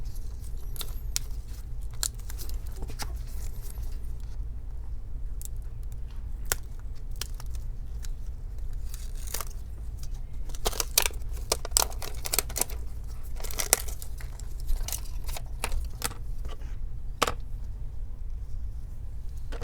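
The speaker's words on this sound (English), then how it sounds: "Let's go ahead and remove this plastic cover." A plastic cover is pried off an HP x360 laptop for a fan replacement, giving a string of close, sharp plastic clicks, snaps and scraping rustles at irregular intervals.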